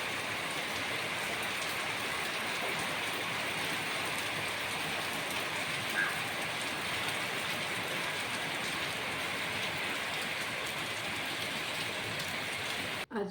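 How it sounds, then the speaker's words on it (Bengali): A heavy downpour of rain hisses steadily and densely throughout, with a constant roar of drops on surfaces that stays even from start to finish. "মুষলধারে বৃষ্টি নেমেছে"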